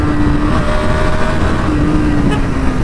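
A Bajaj Pulsar NS 125 motorcycle pulls hard through second and third gear, its engine a loud, continuous buzzing drone with rising whine under heavy wind rush, recorded from the rider's position.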